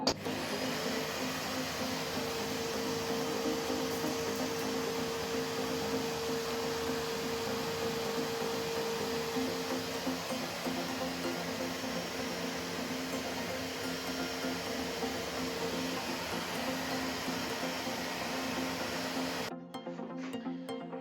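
A Cecotec Conga Rockstar Wet & Dry Steel Max vacuum cleaner runs continuously with a steady, even motor drone and airy hiss, close and unchanging for about twenty seconds before cutting off at the very end.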